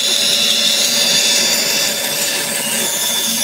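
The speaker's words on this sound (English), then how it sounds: "We can now go back out to the bandsaw, go trim those off." A bandsaw cuts through wood for an Adirondack chair part, with a loud, steady, close whine and rasp that runs continuously without pause.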